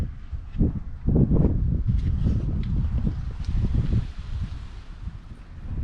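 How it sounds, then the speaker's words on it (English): Wind picking up outdoors, buffeting the microphone in low, uneven rumbling gusts that swell and fade for several seconds, with faint rustling above. "this wind's picking up"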